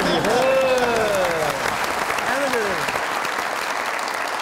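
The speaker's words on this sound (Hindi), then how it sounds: "बहुत सारी तालियां" A studio audience on a comedy talk show claps steadily and fairly close while a voice speaks over the applause, rising and falling in pitch, before the clapping continues alone.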